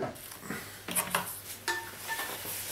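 Fried brick pastry is lifted out of a pan on a gas stove, with light scraping and clinking of utensil against metal and a soft residual sizzle, close and fairly quiet over a low steady hum.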